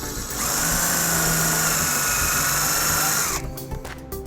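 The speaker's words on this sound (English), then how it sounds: "using a 1/4-inch socket we'll put our self-tapping screw into place" A power driver spins a self-tapping screw through a 1/4-inch socket to fasten a wiring harness bracket on a 2018 Hyundai Santa Fe, whirring loud and steady for about three seconds before stopping abruptly.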